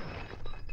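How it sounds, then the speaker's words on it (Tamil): Glass shatters in a brief, sharp break that carries on into a short crash and scatter of fragments, heard alone and close by. "ஐயோ கிளாஸ் உடைஞ்சிருச்சு."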